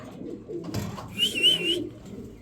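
A Spanish pouter pigeon hen coos nearby in a soft low burble, with a brief rustle and a short chirp-like note mid-phrase, no speech.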